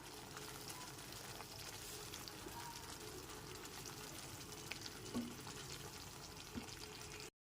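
Hot water is poured into a frying spice mix in a pan, producing a soft, continuous watery hiss and sizzle with a couple of faint bumps toward the end and no talking.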